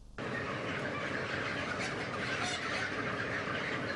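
Chickens on a poultry farm in Çankırı, a steady dense flock clamor of clucks and squawks filling the space at close range without pause, with no talk over it.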